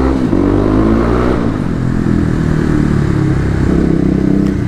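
A Kawasaki KLX250 motorcycle rolls through a parking garage, its engine droning loudly and steadily with slight shifts in pitch and a brief clatter near the start, echoing in the enclosed space.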